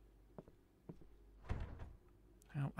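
Doors in the horror game Fear The Moon rattle and thump as they are shaken, giving irregular knocks and a heavier clatter midway, fairly quiet and with no talk over them.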